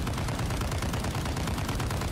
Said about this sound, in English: accept no substitute for the bomb LMG